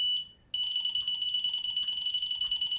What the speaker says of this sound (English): it's not quite going into warble, so that's the lowest beep speed